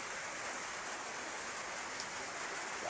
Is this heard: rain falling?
yes